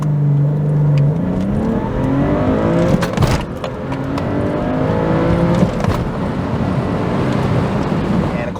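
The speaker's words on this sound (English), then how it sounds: "So first let's do a 0 to 100 time in the Legacy." A Subaru Legacy 3.0R accelerates hard from 0 to 100 km/h, its engine climbing in pitch through several gear changes, heard from inside with wind noise and loud, continuous engine roar.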